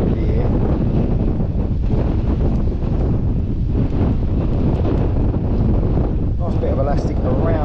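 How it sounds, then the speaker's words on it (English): Strong wind buffets the microphone in a constant low roar on the shore at Herne Bay while fishing, with a voice talking faintly beneath it. "It's very windy here."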